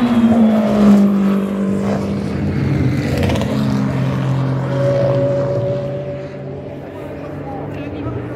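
Race cars at the 24 Hours of Le Mans 2025 roar past, engine whine rising and falling in long sweeps, while commentators talk loudly over the noise.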